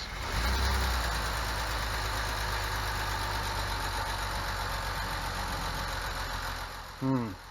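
A BMW E46 car engine runs steadily at idle, close and loud, with a low rumbling hum throughout and a brief knocking burst near the end, with some valve rattle.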